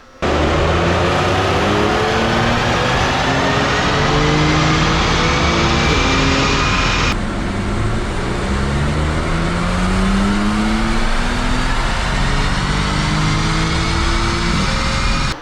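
A stock Audi B8 S4 revs hard on a dyno, climbing through the gears in loud, sustained rising sweeps with brief shift breaks, continuous for around fifteen seconds with no talking.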